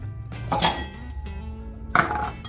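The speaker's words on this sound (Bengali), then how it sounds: "এখানে রাখি স্পুনটা" A spoon is set down among kitchen utensils beside a stove with oil heating, making two bright metallic clinks about a second and a half apart over a low background hum.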